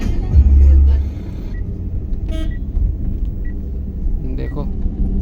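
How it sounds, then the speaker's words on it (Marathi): Heavy highway traffic on the road to the Konkan coast: a close, continuous rumble of cars with short horn toots, while people talk inside the car. "आमची गाडी आहे पुढे आणि आमच्या मागे 3 गाड्या आहेत."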